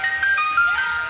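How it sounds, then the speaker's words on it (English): An ice cream truck jingle plays as a short, bright electronic melody of quick tinkling notes, fairly clear and alone. "Ice cream truck."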